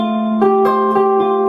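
A single Aeolian chord with a flat sixth, sustained and ringing, with a few notes shifting in partway through, played alone at moderate loudness.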